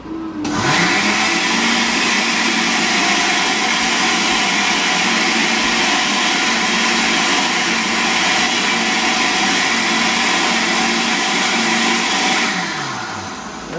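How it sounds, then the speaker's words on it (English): A kitchen blender whirs loudly and steadily, blending a homemade pizza sauce for a green olive and pepperoni pizza, one continuous motor drone running close and alone for about twelve seconds before winding down. "So now we just blend it till it looks nice and liquidy and mixed"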